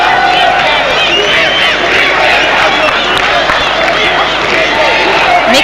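A large stadium crowd at the 1994 Hockey World Cup semi-final between Pakistan and Germany roars and cheers loudly and steadily throughout, with a dense wash of shouting and clapping.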